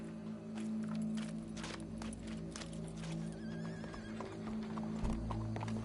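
Hooves clip-clop in a steady rhythm over a low droning background in a PS4 video game, with a horse whinnying briefly near the end.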